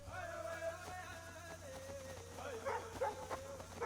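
A dog in Assassin's Creed III lets out faint yips and whimpering barks in a Mohawk village scene, quiet and intermittent over soft background sound.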